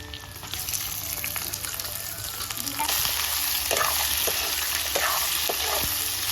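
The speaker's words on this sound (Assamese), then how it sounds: "অকণমান দেৰি মাংসটো অকণমান দেৰি ফ্ৰাই হ'ব দিছোঁ" Meat frying in hot oil in a pot with potatoes, ginger and garlic gives a loud, continuous sizzle with repeated stirring scrapes and clanks, growing louder partway through.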